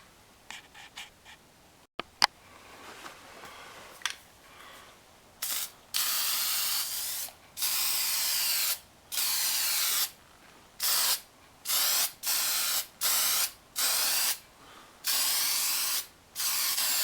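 Spray cans coating a GMC Safari van's grill and bumper, heard as a run of short, loud hissing bursts separated by brief pauses, after some quieter handling and rattling at the start.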